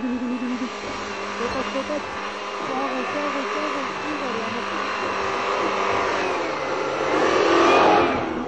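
An off-road vehicle's engine drones and revs under strain climbing uphill, its pitch climbing and swelling louder toward the end as the vehicle pushes hard.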